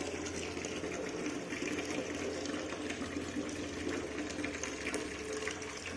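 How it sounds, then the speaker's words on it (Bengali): Water pours in a steady, moderately quiet rush as garden plants are watered, continuous and even for the whole stretch. "যে গাছগুলো জল দিয়ে দিই"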